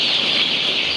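Poultry birds in a shed drinking vaccine water before a Gumboro vaccination give a steady, dense chatter of clucking that runs without a break through the whole moment, fairly close, with no one speaking.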